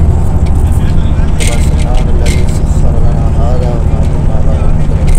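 Inside a nearly full shared car on the road during an Umrah trip, viewed from the back seat: a steady, loud low engine and road rumble runs throughout, with muffled voices talking underneath.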